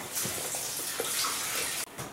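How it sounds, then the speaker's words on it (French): Hot water runs from a kitchen tap during a home chemistry experiment, a steady close rushing stream that cuts off abruptly near the end, with no voices. "Donc tu fais de l'eau chaude avec le robinet."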